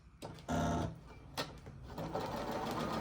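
A sewing machine test-stitches on a scrap of thread while a drawstring bag is being sewn: a short whirring burst, a brief pause and a click, then a longer, steady, close-up run of stitching.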